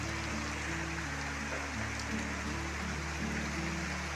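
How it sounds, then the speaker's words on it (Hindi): Heavy rain pours down at dusk at a hillside home during the first rain of the year. It makes a steady, dense hiss with no break, alongside a low constant hum. "काफ़ी अच्छी बारिश आ रही है"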